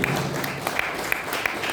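An audience at a Hindi-language swearing-in and felicitation ceremony claps continuously, a dense, even patter of many hands with a few sharper claps standing out, steady and fairly loud.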